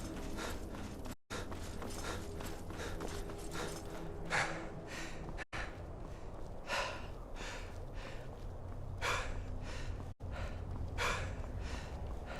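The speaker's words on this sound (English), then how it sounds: "Alright, here a little bit of gasping" A game character gasps and breathes hard in a survival video game while fleeing giants, brief breathy bursts recurring over a steady bed of ambient game noise.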